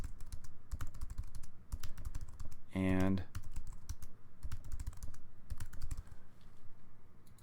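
Keys clatter on a computer keyboard as fake values are typed into a sign-up form, quick irregular bursts of close, crisp clicks under a voice, with a short tonal beep partway through.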